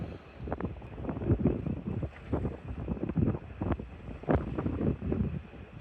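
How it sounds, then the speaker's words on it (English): Wind gusts across open water beside fishing rods, coming in uneven buffeting surges against the microphone, moderately loud with no one talking. "that wind's really picking up now"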